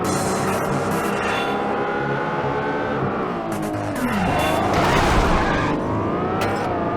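Race cars lap an LA street circuit in the Midnight Club 2 video game, with loud, close engines revving and shifting through rising and falling pitches and a surge of louder roaring and tire noise midway.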